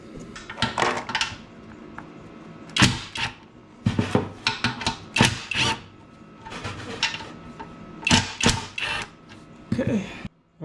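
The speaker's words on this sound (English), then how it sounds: "these bolts here are apparently adjustment bolts, so they need to be loosened up" Adjustment bolts being loosened on a Harbor Freight Hercules universal benchtop bandsaw mount, heard as close metallic clicks, clanks and rattles in irregular bursts with brief pauses between them.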